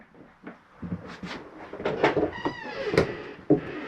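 A cabinet door in a 2021 Gulfstream Conquest 295SBW travel trailer clicks and knocks shut among several small wooden taps and rattles, close and fairly quiet.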